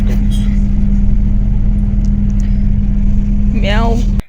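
A bus engine runs steadily with a loud, close, even drone for about four seconds, then cuts off; a short rising and falling vocal sound is heard just before it stops.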